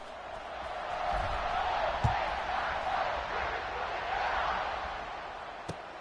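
A stadium crowd roars at a college football video game, Minnesota against Ohio State, as a broad sustained cheer that swells and settles at moderate distance, with a couple of brief thuds.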